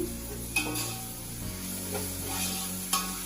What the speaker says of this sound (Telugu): ఇందులో కొంచెం మనం అల్లం వెల్లుల్లి పేస్ట్ యాడ్ చేసుకోవాలి. పచ్చివాసన పోయే వరకు వేయించుకోవాలండి.